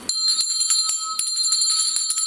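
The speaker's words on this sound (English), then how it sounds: "Ring the bell." A hand bell rung repeatedly during a ghost-hunting session, its sustained high metallic tones ringing continuously with several sharp re-strikes, close and fairly loud, with no talking.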